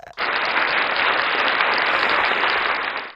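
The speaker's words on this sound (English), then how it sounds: "We need to clap for him" An audience cheers and claps for an election winner, a dense, even roar of applause that starts abruptly and holds at steady strength for about three seconds.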